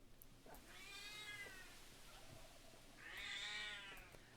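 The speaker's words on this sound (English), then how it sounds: "Why are you meowing?" A cat meows twice, a drawn-out call and then a second louder one, faint and slightly distant over low background ambience.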